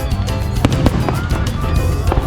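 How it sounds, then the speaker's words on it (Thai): Fireworks bursting over a Loy Krathong festival night, a dense continuous crackle of loud pops and bangs with several sharper blasts standing out, a crowd murmuring faintly beneath. "เขาก็จุดพลุนะครับ"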